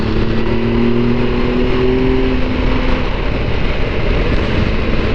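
On a country road in the Berkshire Downs, a car overtakes a cyclist. Its engine drone rises and falls briefly over heavy, constant wind rush, close and loud, with no voices.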